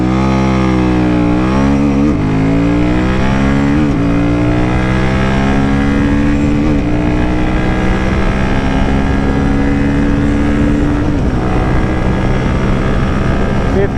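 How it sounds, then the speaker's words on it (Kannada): A Royal Enfield Himalayan 450 motorcycle accelerating hard at full throttle, its loud engine note climbing through the gears with a brief dip at each shift, then holding a strong steady drone near top speed. "fifth gear full throttle"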